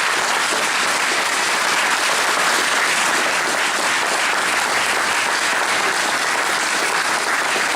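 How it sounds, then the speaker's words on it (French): Sustained, dense applause from a large crowd at a Front National Galette des Rois political gathering in Lille, a loud, even wash of clapping that holds steady from start to finish without pause. "vous pouvez les applaudir"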